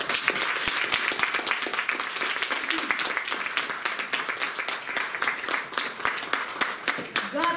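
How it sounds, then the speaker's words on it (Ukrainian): Enthusiastic audience applause greets an honoree at a Culture Workers' Day ceremony, a continuous crackle of many hands clapping at moderate distance, with faint voices beneath. "Мы поприветствуем вас бурными аплодисментами."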